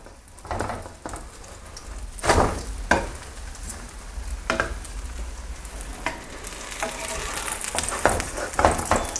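Cha-om omelette frying in hot oil, a loud continuous sizzle with several sharp splatters and bursts as it is flipped and turned in the pan, no talking.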